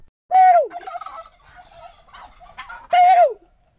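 Turkey gobbling on a farm, two loud close bursts of rapid warbling gobbles separated by a softer stretch of fainter bird sounds, no talk.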